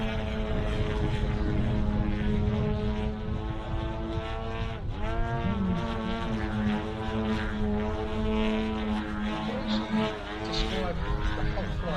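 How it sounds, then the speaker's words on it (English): A model aircraft flies a knife edge pass at an air show, its propeller engine whining in a strong tonal drone that bends in pitch as it passes, with a voice talking over it. "Knife edge pass, I think."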